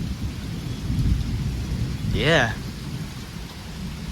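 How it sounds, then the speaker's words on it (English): A thunderstorm with steady heavy rain and a rolling thunder rumble building near the middle; a person talks briefly over it. "I love thunderstorms."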